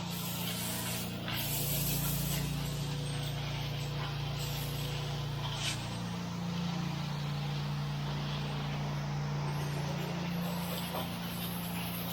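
Pressure washer spray rinsing a vinyl-sided house, a loud steady hiss running throughout with small shifts in tone as the wand moves, close to the microphone with no talking.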